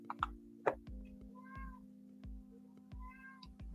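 A house cat meows repeatedly, upset at being shut out of a room: two sharp cries early, then two longer drawn-out meows, close and fairly loud over a steady low hum.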